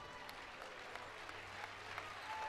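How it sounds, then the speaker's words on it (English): Steady applause from a crowd at a women's college basketball playoff game, continuous clapping that fills the whole stretch at a moderate, even level. "a big round of applause for the senior from Gardner"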